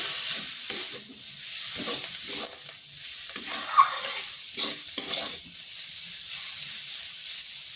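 Chopped coriander stirred into a vegetable filling in a hot pan: steady scraping spoon strokes over a continuous sizzle and hiss, close and fairly loud, with no talking.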